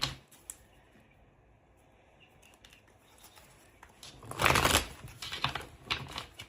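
Quiet stretch, then a burst of crisp papery riffling and flicking of tarot cards being shuffled close up, with scattered softer taps after.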